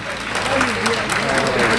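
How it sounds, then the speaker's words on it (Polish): Enthusiastic applause from a crowd queueing at a Media Expert store opening, loud and dense continuous clapping close by, with someone talking over it. "Entuzjastyczne brawa, jeszcze 20 sekund"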